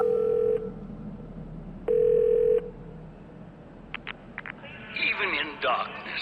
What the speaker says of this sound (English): You can use the payphones down in the subway stations to call these numbers